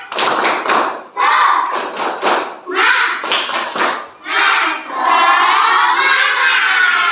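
Schoolchildren in a classroom perform a rhythmic spirited clap chant, bursts of patterned clapping mixed with loud shouted voices, ending in one long sustained group shout.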